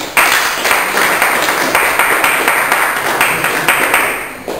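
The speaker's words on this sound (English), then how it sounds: "And your applause, please," Loud, dense applause from a boxing-match audience right after a unanimous judges' decision, a sustained wash of many hands with a faint pulsing rhythm that fades slightly at the end.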